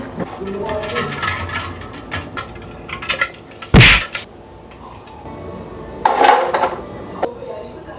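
Dishes and cutlery clatter and clink in a sink, with a sharp clank partway through and scattered talk in the background.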